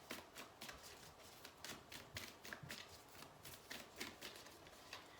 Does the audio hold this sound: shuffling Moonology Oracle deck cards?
yes